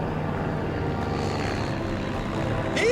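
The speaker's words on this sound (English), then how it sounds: "But as the plane banks away" A propeller search plane flies over a rainforest and banks away, its engine a steady broadband drone that holds at moderate loudness throughout. A brief rising whine comes at the very end.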